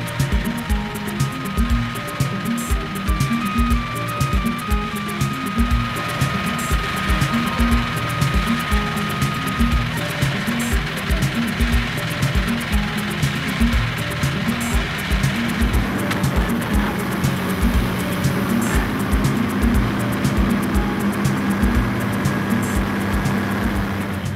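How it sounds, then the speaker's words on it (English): Sugar factory machinery runs continuously, a loud, dense mechanical clatter with rhythmic low thumping and a steady whine throughout, with no talk. "The machines are cranking here again after many years of silence."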